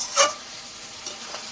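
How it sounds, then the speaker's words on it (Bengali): Meat being sautéed with spices in a pan gives a brief scraping stir near the start, then a faint steady sizzle with a couple of light clicks, fairly quiet and close, with no voices. "মাংসটাকে কষিয়ে নিই এইবার সুন্দর করে কষাতে হবে"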